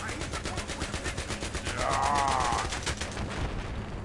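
Rapid automatic gunfire from the video game Battlefield 3 rattles in a fast, even burst across the whole moment, with a brief whooshing effect mixed in midway.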